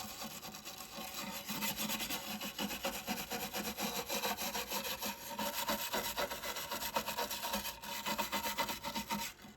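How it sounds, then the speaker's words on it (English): A knife carves a wooden relief of a Ford Mustang, cleaning up crisp lines with steady, close scraping and rasping strokes that repeat in a quick, even rhythm throughout. "What I'm doing here is I'm just making sure the lines are nice and crisp with the knife."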